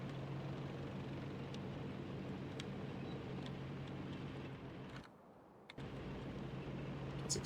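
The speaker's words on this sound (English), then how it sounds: "The tank's engine kind of sounds like a tractor." Tank engine driving in the Factorio game, a steady tractor-like drone with a low hum running continuously, a brief drop-out near the end before the engine noise resumes at the same level.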